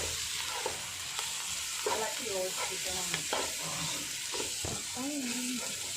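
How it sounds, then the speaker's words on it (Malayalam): Chicken with a spoonful of black pepper is stirred in a pan for a Kerala chicken varattu, a loud steady sizzle with spatula scrapes running beneath someone talking throughout. "എന്നിട്ട് കുരുമുളകും 1 സ്പൂൺ ഇടണം. കുറച്ച് കുരുമുളക് ഇടണം. എന്നിട്ട് നല്ലോണം ഇളക്കണം."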